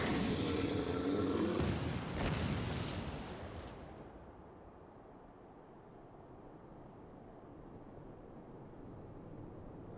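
Gun or cannon firing in the video game Final Fantasy XIV, a loud, booming blast that rumbles and crackles for a few seconds before fading into a low, steady background rumble.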